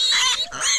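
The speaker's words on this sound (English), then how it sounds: "We're moving pigs." Pigs grunting while being moved on a homestead, two short close squealing grunts in quick succession.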